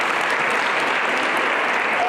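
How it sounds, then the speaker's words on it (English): A school audience at an award celebration claps for themselves, a dense, steady wash of many hands filling the room for about two seconds with no break. "Clap for yourselves."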